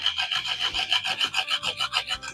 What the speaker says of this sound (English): This is a hacksaw, so it's just designed for cutting metal.